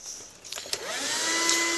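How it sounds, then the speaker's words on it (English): An early electric vacuum cleaner motor starts up and whines steadily, rising to a continuous high hum after a few faint clicks, heard alone at moderate volume. "Believe it or not, the vacuum cleaner was one of the first applications of the electric motor."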